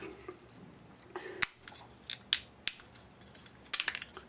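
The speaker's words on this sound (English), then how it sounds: "You can just kind of break it off like this, or you could use a pair of pliers just to pull it out." A plastic bottom cover is snapped off a full-arch dental stone model. It makes a series of sharp, close cracks and clicks in irregular bursts, with a few fainter creaks between them.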